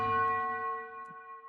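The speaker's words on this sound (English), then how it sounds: "The orchestra is leaning into this great tubular bell sound," Orchestral tubular bells strike once, near and ringing, with a clear metallic tone that decays slowly for over a second.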